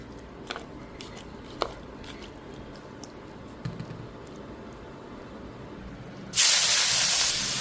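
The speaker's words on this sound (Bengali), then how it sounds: "হালকা গরম হলে আলুটা আর পটলটা ভেজে চিংড়ি মাছটা ভেজে নেব।" Potato and pointed gourd go into hot oil in a wok, and a loud, steady sizzling hiss bursts up near the end after a quiet stretch with only a few faint clicks.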